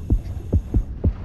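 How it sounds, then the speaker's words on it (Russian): Throbbing heartbeat effect from a Jaws shark-diving game, signalling a nearby shark, with four heavy low double-thumps in steady rhythm under a faint electronic hum, no voices. "Сердцебиение слишком большое."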